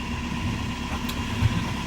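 A low, steady engine hum drones at idle with an even, unchanging rumble, close by and with no voices.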